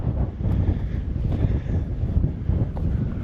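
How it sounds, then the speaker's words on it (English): Strong wind blowing across open desert on a March evening, buffeting the microphone in a continuous low, gusty roar with no voices. "But it sure is a pretty windy evening."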